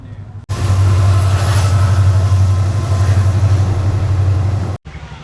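A train rolls past a closed railway level-crossing gate, a loud, steady close-range rumble with a deep low drone that starts abruptly and runs for about four seconds before cutting off.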